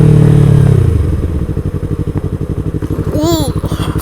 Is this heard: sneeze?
no